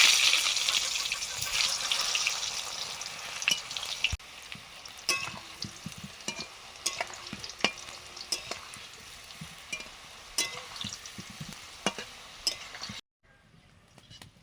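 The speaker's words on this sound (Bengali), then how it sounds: "আলুর দমের আলুটা ভেজে নিচ্ছি" Potatoes for alur dum fry in oil in a pan, with a steady sizzle and crackle interrupted by clinks and stirring scrapes, before dropping suddenly to quiet near the end.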